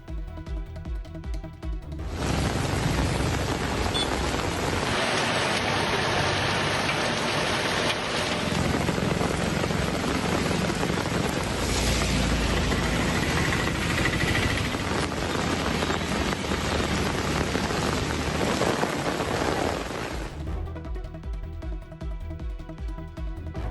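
Sudden heavy rain over Ranipet district, a dense steady roar of downpour that swells in loudly after a couple of seconds and holds for about eighteen seconds before dropping back, with no voices.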